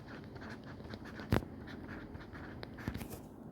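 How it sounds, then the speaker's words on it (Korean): Writing on a board during a high-school ethics lesson: quiet, scratchy strokes with a sharp tap near the middle and another toward the end, faint and close, with no talking. "여기 써볼게요."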